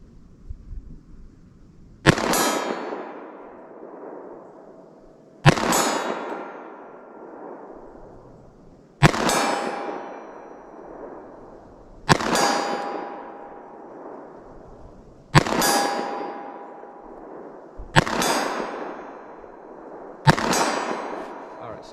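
A short-barrel pistol fires .45 ACP+P rounds outdoors, seven sharp, loud shots spaced a few seconds apart, each with a ringing decay tail.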